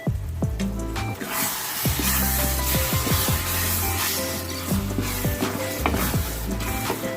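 Masala and vegetables are stirred in a frying pan, a ladle scraping and knocking against the metal in quick repeated strokes over a steady close sizzle.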